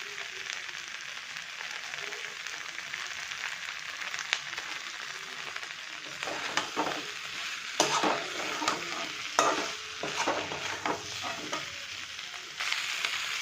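Ritha fish roe curry with potatoes stir-frying in a pan, a steady sizzle broken by scraping spatula strokes and brief clatters toward the end, close and moderately loud.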